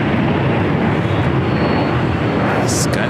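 A Delta jet airliner rolls for a full-length takeoff on runway 25 Right at LAX, its steady, loud broadband engine roar holding throughout, with a brief higher hiss near the end.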